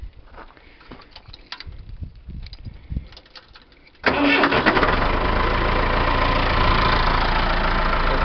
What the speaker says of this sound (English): So let's crank up this tractor